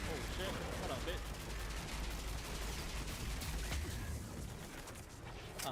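Faint gunfire from the sci-fi shooter Mass Effect 3 sounds in scattered bursts beneath a busy game mix, low in level throughout.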